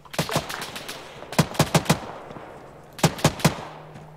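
Heavy gunfire in the military video game Arma 3 during a squad operation: several short bursts of sharp, loud shots, an opening cluster, a group of four, then three more, with no talk over them.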